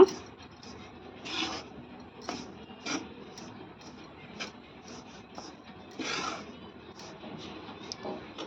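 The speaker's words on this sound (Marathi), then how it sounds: "पीठ तुपावरती छान भाजून घ्यायचं आहे" Green gram flour roasting in ghee as it is stirred with a spoon, a quiet dry scraping and rubbing with repeated short strokes and lump-breaking scrapes, close and soft with no voice.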